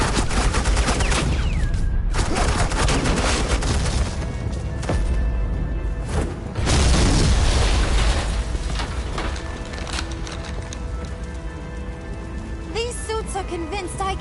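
Gunfire bursts and rapid fusillades in Batman: The Enemy Within, with Agent Quinn laying down suppressing fire, sounding as dense, loud, continuous shooting and crashes mixed with game score and effects over the whole stretch.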